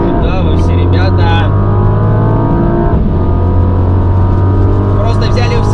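A BMW X6M, Mercedes-AMG GLE 63 S and Lamborghini Urus launching together from idle in a drag race, loud engines roaring under strain inside a cabin, sustained and powerful throughout.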